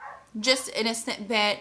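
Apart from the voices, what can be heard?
dog barking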